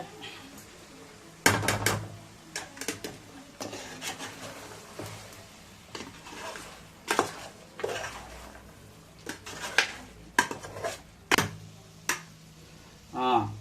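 Metal spoon scraping and clanking against a pan while chicken fry is stirred, in irregular bursts of close, sharp clatter with quieter gaps between.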